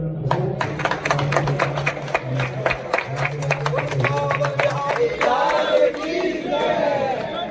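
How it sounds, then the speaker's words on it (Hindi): A crowd claps in rapid, irregular bursts at a Ram Mandir hall inauguration, close and loud, over a low hum, then the clapping fades into chatter and cheering voices. "तालियां बजाएंगे जोर से।"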